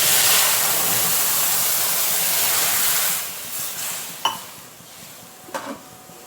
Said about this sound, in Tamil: நாம் இப்போ இதில் பால் சேர்த்துடலாம்.